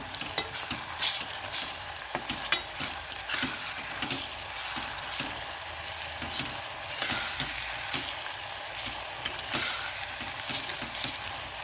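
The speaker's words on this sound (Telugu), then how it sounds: "ఇది అల్లం పచ్చి వాసన పోయే వరకు కాసేపు ఒక హాఫ్ మినిట్ అలా వేయించుతాము" Ginger and turmeric frying in oil in a pan for mutton curry, with a steady crackling sizzle and scattered scraping taps of a spoon as it is stirred, close and continuous with no talk.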